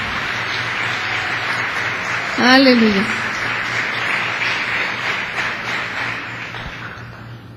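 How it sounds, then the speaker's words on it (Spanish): Church congregation applauding steadily for several seconds, a dense even clatter of clapping under a voice calling out over it. "Un aplauso para que se anime."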